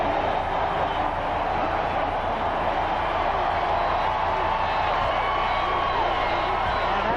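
A packed Autzen Stadium crowd roars steadily and loudly after an Oregon Ducks touchdown against Illinois in a 1995 college football game, a dense wash of cheering that holds for the whole stretch.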